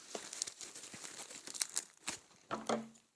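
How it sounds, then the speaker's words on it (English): Scissors snip and slice through tape on a securely taped shipping package, with crinkling and tearing of packing material in short bursts and a louder rip near the end, close by and with no talking. "I'm going to use some scissors to kind of cut this"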